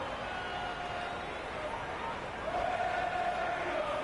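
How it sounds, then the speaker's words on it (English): A packed cricket ground's crowd at near bursting point, a steady, dense roar of massed voices and hubbub that swells slightly toward the end, sustained throughout without any single voice standing out. "It's evident and ever so audible that the crowd is at near bursting point at today's play."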